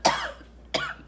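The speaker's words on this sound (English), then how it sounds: "This cough, literally, it won't quit." Two separate coughs about half a second apart, close and moderately loud, each a sharp burst trailing off, with no talking.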